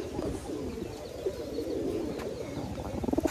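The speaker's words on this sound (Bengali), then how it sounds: "এটা হলো নর কবুতর" A male pigeon at a pigeon farm coos steadily among other birds, with soft throaty calls overlapping close by and a quicker burst of cooing near the end.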